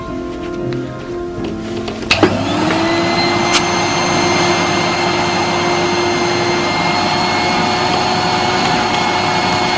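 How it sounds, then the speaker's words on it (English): A vacuum cleaner switches on after a few moments of room noise and then runs as a loud, steady roar with a constant whine while someone hoovers a room. "I need to hoover."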